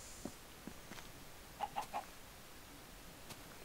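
Chickens in the Minecraft video game give three quick, faint clucks in a row, with soft game sounds around them and no talking.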